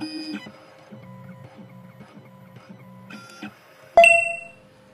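An SX9 key duplicating machine decodes the lateral side of a key with a series of beeping electronic tones and soft mechanical whirring steps, ending in a sharp, loud tone burst, close and without talking.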